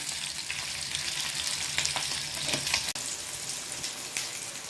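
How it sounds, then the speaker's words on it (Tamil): Green chillies frying in hot oil in a pan, a loud continuous sizzle with crackling and occasional stirring scrapes throughout. "எண்ணெயில் நல்லா வதங்கிடணும். வதங்கி அந்த பச்சை எல்லாம் போயிடணும்."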